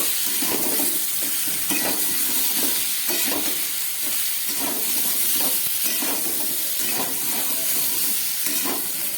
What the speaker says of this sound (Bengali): জিরে, ধনে, কাঁচা লঙ্কা, আদা বাটা সব কিছু দিয়ে ভালো করে এটাকে কষিয়ে নিচ্ছি